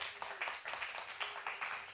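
A small audience clapping for the performers at a Thursday worship concert, scattered steady applause at moderate distance with no voices over it.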